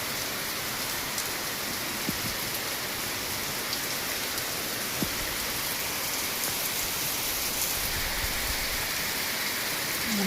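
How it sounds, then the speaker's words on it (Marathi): Steady rain patters on trees and surrounding surfaces in an even, continuous hiss, with a few scattered drips standing out, moderately loud and with no voices. "झाडांना पण मस्त पावसाचं पाणी भेटू राहिलं"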